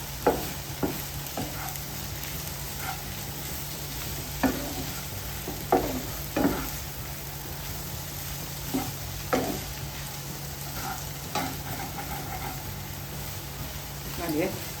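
Omelette egg mixture with coriander leaves is stirred and mixed in a bowl, soft continuous swishing with periodic sharper clinks of the utensil against the bowl, at close range under a steady background hum.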